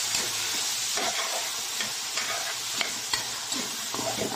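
Bitter gourd (ampalaya) fries in a pan with a steady close sizzle and hiss, broken by faint scattered clicks of stirring and no voices.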